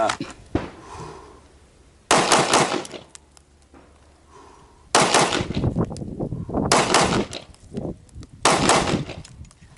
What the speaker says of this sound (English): Let's do it one more time because I enjoy shooting.